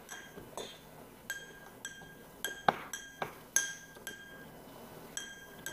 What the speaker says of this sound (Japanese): ではそれぞれですね、ペストルで潰していきます。